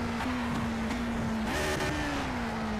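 Engine of a 1960s Formula One car at Rouen-Les-Essarts in Project CARS drones loud and close, its pitch dipping and stepping as it shifts down to second gear, with a brief rise on the throttle.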